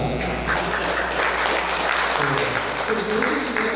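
Audience at an academic presentation on Buddhist temple history applauding, a steady wash of clapping hands over a low background hum, continuous throughout.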